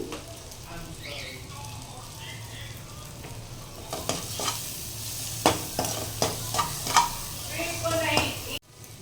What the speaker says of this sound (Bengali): এখানে আমি জাস্ট এখানে 1 মিনিটের মতন একটু নাড়িয়ে নিচ্ছি।